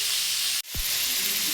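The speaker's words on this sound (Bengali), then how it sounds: "একটু ভাজা ভাজা হোক।" Tomato fries in a pan, a loud, close, continuous sizzle that cuts out for an instant and then resumes.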